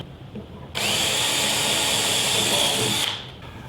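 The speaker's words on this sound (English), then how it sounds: "We've got us a cordless drill set up, high speed for drilling, 1/8" drill bit" A cordless drill spinning at high speed drives a 1/8-inch bit through wood for a wall shelf, a steady loud whine lasting about two seconds between quieter moments before and after.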